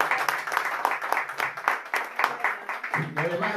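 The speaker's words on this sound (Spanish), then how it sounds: "Le damos un aplauso, dos genios." An audience at an event applauds with a continuous patter of clapping, with a voice speaking Spanish over it.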